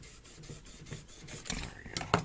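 A knife blade worked against a sharpening guide in quick, uneven rasping strokes, faint at first and growing louder with a few sharper scrapes near the end, close and without talk.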